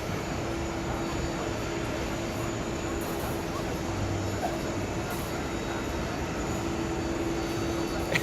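A passenger airplane lands on runway 4 right at JFK Airport, with a steady, loud jet engine roar and a constant hum sustained throughout, and no clear talk.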